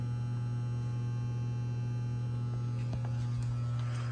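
A 6000-amp, 15-volt Dynapower industrial rectifier hums when powered, a steady, loud electrical drone low and constant, with a few faint clicks and rattles near the end.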